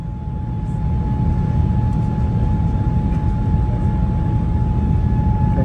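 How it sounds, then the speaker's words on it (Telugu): Inside an Oman Air airplane taking off on a Dubai to Muscat flight, a loud steady roar of engine and cabin noise with a constant tone running beneath it, heard alone throughout. "ఫ్రెండ్స్, ఫ్లైట్ ఇప్పుడే లేచింది."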